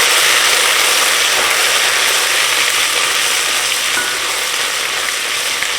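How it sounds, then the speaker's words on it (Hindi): Ginger, garlic and green chili paste fries with spices for veg soya biryani, giving a loud, close, unbroken sizzle with stirring scrapes throughout. "इसको भी भूनेंगे अच्छी तरह से।"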